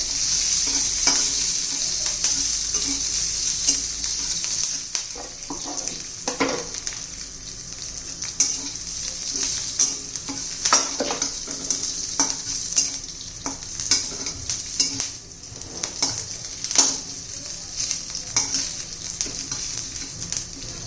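Fresh pigeon peas roast in a pan while being stirred, giving a steady close sizzle with repeated scraping strokes throughout, no voices.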